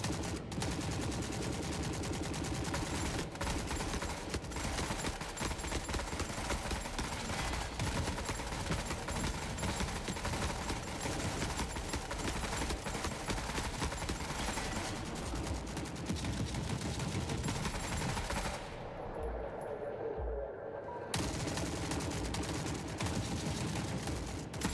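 Dense, continuous squad gunfire in the shooter game Forever Winter, with rapid overlapping shots and bursts filling nearly the whole stretch and a short lull near the end, loud and close.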